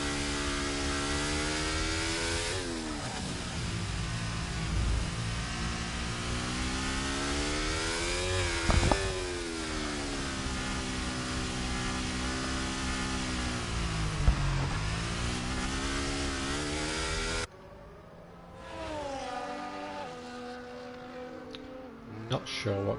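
A race car in a racing video game on a Netherlands circuit revs hard with long rising and falling engine whines during burnouts on the back straight, loud and continuous, with a commentator talking over it before an abrupt drop.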